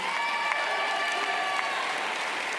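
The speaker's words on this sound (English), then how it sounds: "Clap it up for them, y'all." Brief, steady applause with some cheering from a high school graduation audience, dense and even throughout without clear talk.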